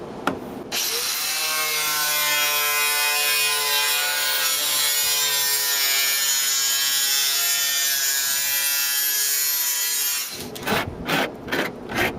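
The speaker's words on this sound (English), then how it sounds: "I score it first and then I cut through coming backwards" A blade scores and then cuts through a panel while fitting a window AC unit into a horizontal sliding window, a loud, continuous rasping saw stroke lasting about ten seconds, followed by a few short scraping strokes.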